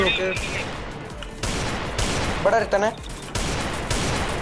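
Bursts of rapid game gunfire, several sharp volleys in quick succession, with electronic effects and voices mixed in.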